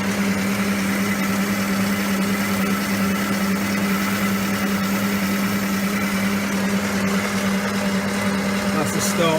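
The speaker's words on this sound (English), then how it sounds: "I'm just roughing down the last section now." A shaper machine roughs down a steel part for a vise, giving a steady, loud mechanical drone with a constant low hum and busy higher-pitched whirring. It runs without a break from start to finish.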